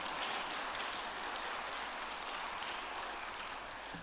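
Audience applause ringing out as a dense, steady wash of many hands clapping together at a lecture, holding at an even level throughout with no voices over it.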